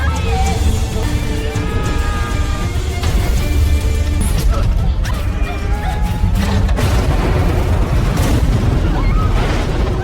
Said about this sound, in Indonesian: salah satu dari mereka memicu ledakan dinamit